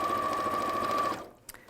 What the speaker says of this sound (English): now I'm going to sew the top of the lining to the top of each side of the bag.